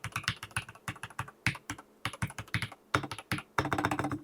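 Close, rapid keystrokes on an Epomaker EK68 mechanical keyboard fitted with pre-lubed yellow banana switches, uneven bursts of crisp clacks with brief pauses, no voices.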